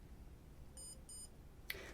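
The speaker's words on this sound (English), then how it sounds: "till it makes a little beep sound" Built-in electronic timer on a speed cube giving two short high beeps in quick succession, faint and close, over quiet room hiss, followed by a small click.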